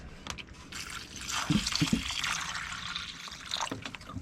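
Distilled water is poured over freshly caught blue crabs, giving a steady close trickle and splash with a few brief drips, with no talk.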